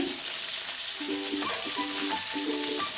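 Rohu fish curry with mukhi kochu taro and potato being stirred in a pan, giving a soft continuous sizzle with light scraping and a few faint clinks, close and steady.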